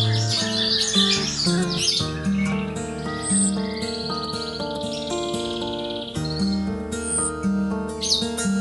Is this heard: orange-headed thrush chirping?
yes